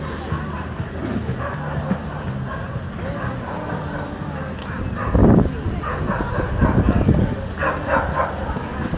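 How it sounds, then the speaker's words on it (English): Dogs bark and yip amid steady crowd chatter at a busy seaside fish and chips spot in Ramsgate, with a cluster of louder barks midway and again later, partly under the babble of voices. "There's a lot of dogs here"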